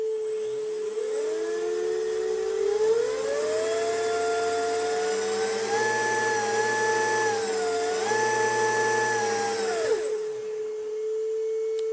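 A car engine revs up steadily and holds high RPM with a rising whine, drops briefly, climbs again, then cuts back to idle near the end while an engine speed meter takes the reading; loud and close, no talk.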